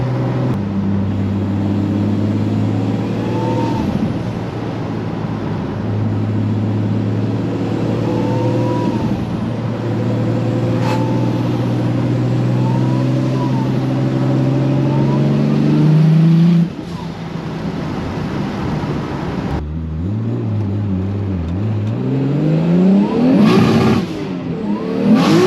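A 2JZ-powered Nissan 240SX street car accelerating hard, the engine note climbing through several revving pulls with a gear change, loud and close, then another burst of throttle near the end.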